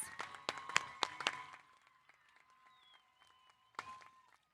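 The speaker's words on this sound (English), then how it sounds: "Let's give them another round of applause" A graduation audience applauds in a burst of sharp, overlapping claps that fades out, then a brief second smattering of claps, heard faintly from a distance.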